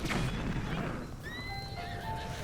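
A horse in the Zelda Breath of the Wild video game gives a loud neigh, followed by a rising, wavering whinny with hoof clatter around it. No one talks.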